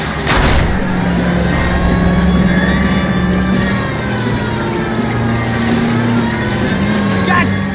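During a car chase in the video game L.A. Noire, a car engine roars and revs continuously with rising and falling pitch, loud and close, while voices speak over it.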